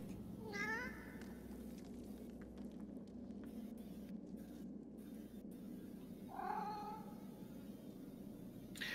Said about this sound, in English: This cat only asks what's going on.